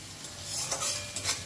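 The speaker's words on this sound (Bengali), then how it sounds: "পেঁয়াজ বেশ ভাজা হয়ে এসেছে" Onions frying in hot oil for a Bengali egg devil, a steady close sizzle with a spatula stirring and scraping against the pan, and no talk.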